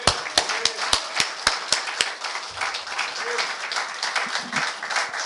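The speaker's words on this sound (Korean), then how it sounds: "우리 감사와 찬양으로 박수로 영광을 올립시다" A church congregation claps at a year-end worship service, starting with a run of sharp, evenly spaced unison claps, then loosening into scattered applause with faint voices underneath.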